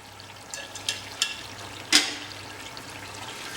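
Mutton curry with onions and tomatoes cooks in ghee, a soft continuous simmer broken by a few light sizzling pops and one louder spatter.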